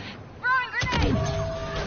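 Grenade blasts in the video game Battlefront 2: a sharp booming burst strikes near the middle, then a broad rumbling decay, with game tones and a voice heard briefly just before.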